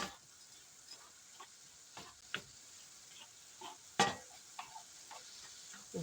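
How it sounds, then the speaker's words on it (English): A taco pasta mixture is stirred in a pan, giving soft, scattered scrapes and taps against a faint sizzle, with one sharper clink near the middle, quiet and close with no voices. "Just going to mix that up."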